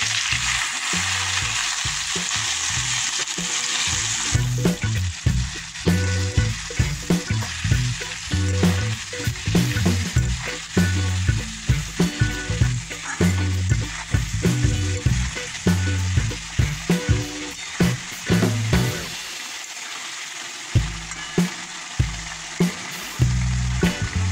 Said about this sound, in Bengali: অল্প জল দিয়ে এটাকে কষাবো।